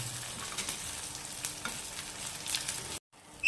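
Oil sizzles steadily in a pan while ingredients fry for a spiny gourd (boda kakarakaya) pachadi; the crackle breaks off abruptly near the end into brief silence, then a faint scrape returns.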